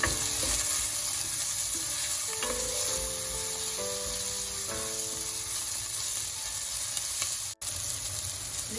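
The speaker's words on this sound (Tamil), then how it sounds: "நான் இதுக்கு கொஞ்சம் உப்பு சேர்த்துட்டு வதங்க விட போகிறேன்." Chopped vegetables and chillies with salt sauté in a pan, giving a steady, close frying hiss that runs unbroken for several seconds, with faint tonal notes faintly behind it and a brief cut near the end.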